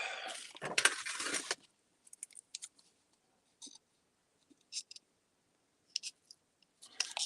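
Sharp crisp clicks and snips from a pair of scissors struggling to cut, one longer rasping cut at the start followed by scattered short snaps in near silence.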